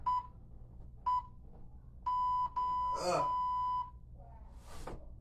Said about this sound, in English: Listen for the timer.